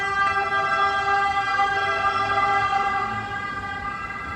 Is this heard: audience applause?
no